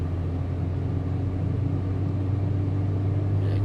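Cabin view of a car accelerating on an expressway during rush-hour traffic, a constant low engine drone and road rumble heard steadily from inside without talk.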